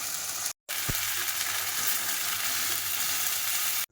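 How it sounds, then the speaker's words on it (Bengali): Spices sizzle steadily and loudly in a pan for ghugni, a dense continuous frying hiss broken by two brief gaps, with no talking. "পাশে মশলাটা কষাচ্ছি"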